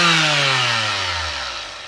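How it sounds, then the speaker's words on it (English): A Black & Decker sander used on a resin collage winds down, its loud motor whine falling steadily in pitch over two seconds with no voices. "Then I take my sander."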